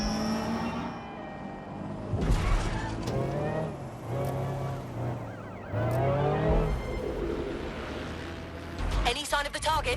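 Car driving itself on auto drive in the video game Watch Dogs Legion, engine revving and shifting with tire noise throughout, voices talking over it.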